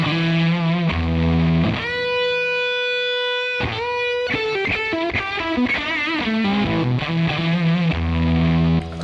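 An electric guitar runs through a homemade fuzz distortion pedal, giving a heavily saturated, buzzy tone with sustained held notes and quick chord changes, played loud and continuous with no talking.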